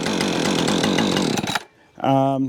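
Husqvarna auto-tune chainsaw running loud and close, its engine buzzing steadily before cutting out abruptly, then revving up again after a brief pause.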